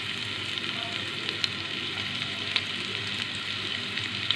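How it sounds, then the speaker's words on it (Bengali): Chopped onion frying with whole cumin in a pan, a steady close hiss and sizzle with small crackles and pops throughout, no talking. "পেঁয়াজটাকে লাল করে ভেজে নেব।"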